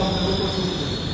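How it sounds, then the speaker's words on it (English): A new subway train running with a loud, continuous metallic wheel squeal and rumbling rail noise, close by and steady throughout. "This looks like some sort of new train."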